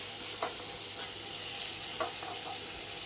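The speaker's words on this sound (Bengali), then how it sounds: "আমার বর রান্না করছে।" Rohu fish curry with cauliflower and potato sizzles in a pan as a husband cooks, a steady faint hiss with occasional light stirring scrapes and no talking.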